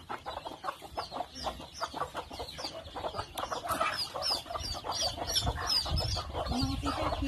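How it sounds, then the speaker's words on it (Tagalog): A flock of farmyard chickens clucking continuously and close by on a rural farm, many overlapping short clucks and squawks with no talking. "Daming manok."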